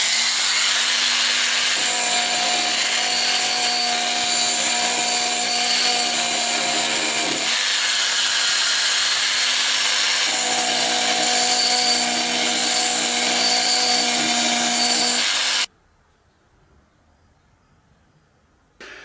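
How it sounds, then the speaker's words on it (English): A Proxxon rotary power tool sharpening on a worksite, powered by a Jackery Explorer 240 portable power station. A loud, steady grinding whine runs for about fifteen seconds with a couple of brief dips, then cuts off abruptly to near silence. "if you pair it with something like this Proxon tool, you can do an awful lot with it. You can sand, grind, polish, all sorts of stuff."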